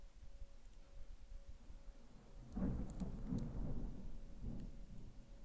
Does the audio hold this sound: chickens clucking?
no